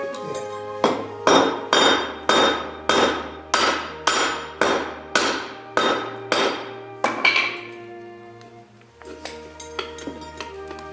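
Metal rivets are hammered to close shackles, with about eleven sharp ringing blows in a steady rhythm, each ringing briefly before the next, then a pause and a final lighter clink.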